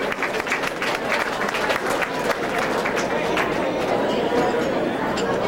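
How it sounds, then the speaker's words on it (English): Guests at a fundraising dinner applaud, dense clapping that fills the hall, mixed with crowd chatter and a few voices talking underneath. "Give them a big applause."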